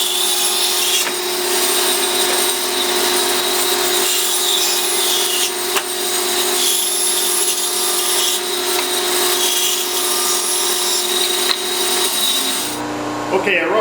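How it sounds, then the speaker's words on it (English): Bandsaw rough cutting wooden pattern stock, a continuous close, loud buzzing and rasping whine sustained for over twelve seconds before the cut ends and the blade noise drops away. "I rough cut these on the bandsaw"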